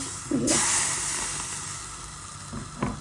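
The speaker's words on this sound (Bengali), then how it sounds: "জাস্ট হালকা করে একটু ভাজবো।" Pitha lightly frying in a pan: a loud sizzle bursts in after a brief clatter, then settles into a steady close hiss that slowly fades, with a couple of soft utensil knocks near the end and no talking.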